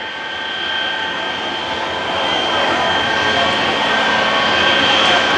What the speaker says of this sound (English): spooling up to the right is the incredible three-jet engine Shockwave